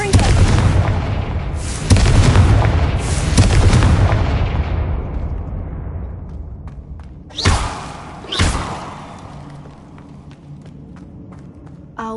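Confringo blasting spells explode in Hogwarts Legacy, heavy booming blasts in quick succession followed by two sharper thuds, each trailing off into a fading rumble.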